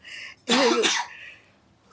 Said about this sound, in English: we're yawning and coughing